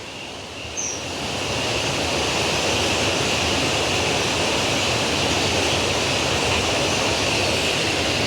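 Water rushes through the breached Muthaiyan Kattu reservoir dam in Mullaitivu in a loud, steady torrent, a dense roar that swells in the first second and then holds constant with no talking.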